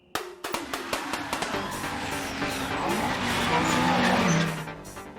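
A Toyota AE86 with a new race engine, as in an anime, lets out a string of sharp mechanical clicks and revs, then its tires skid and squeal loudly over a rising engine roar.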